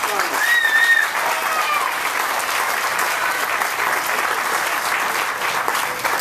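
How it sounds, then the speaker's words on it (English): Sustained applause from an audience at a county homemaker recognition event, a steady dense wash of clapping that stays loud and even throughout with a faint voice briefly over it. "Let's give them all a nice round of applause."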